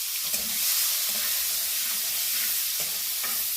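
Prawns frying in hot oil with turmeric, a steady close sizzle with soft periodic stirring scrapes and no talking.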